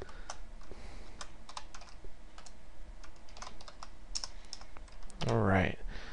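Keys clatter in irregular bursts of close, quiet typing on a computer keyboard. A voice breaks in briefly near the end.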